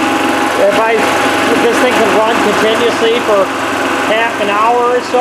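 A Club Car DS golf cart engine with a new ignition coil runs steadily at idle, a continuous close hum under a man's speech that runs through the whole stretch.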